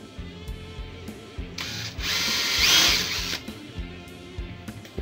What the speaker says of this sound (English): these holes are all 4mm, so we're gonna need a 4mm drill bit for that.